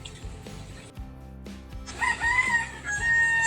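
A rooster crows loudly nearby in one long, wavering call, preceded by scattered clucks and rustling.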